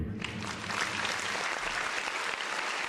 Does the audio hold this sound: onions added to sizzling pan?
no